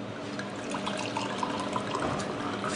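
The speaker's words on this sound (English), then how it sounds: "fill the measure with wine until it's just underneath the top of the wine measure, and pour into the glass like so" Red wine poured from a bar measure into a glass, a steady close liquid splash and trickle running the whole time with no talk.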